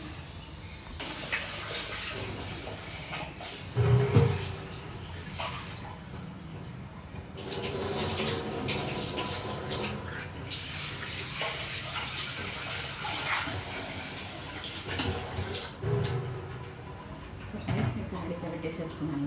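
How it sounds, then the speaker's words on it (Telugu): Running tap water splashes steadily into a bowl as rice is washed, with occasional louder sloshes as the rice is stirred, near and continuous. "let's go and wash the rice"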